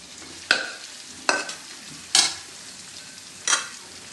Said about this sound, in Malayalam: എണ്ണയിലേക്ക് തന്നെ ഞാനിതാ ഉള്ളി വാട്ടാൻ വേണ്ടിയിട്ട് ചെരിയുന്നു